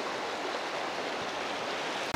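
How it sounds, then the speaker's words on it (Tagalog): Strong river current rushing past at close range, a dense, steady roar of flowing water with no breaks, loud and alone with no voices over it. "Lakas din yung agos dito eh."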